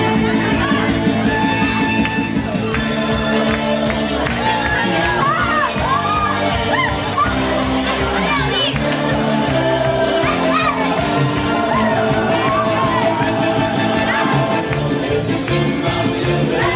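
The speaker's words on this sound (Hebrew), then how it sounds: "בואו נשמע מחיאות כפיים שלכם" A lively crowd at a bat mitzvah celebration cheers and shouts loudly and continuously, with children's voices whooping over a dense, music-like background.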